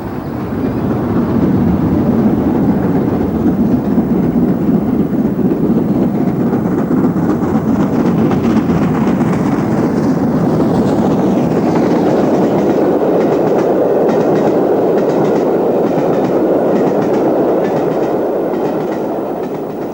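LMS steam locomotive running on the main line, a loud sustained rumble of wheels and rolling stock with a steady rhythmic clatter, holding close and constant throughout.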